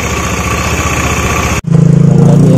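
A carbureted Honda Beat scooter engine idles close by in a steady mid-pitched putter, then briefly cuts out and returns with a deeper, rhythmic throb.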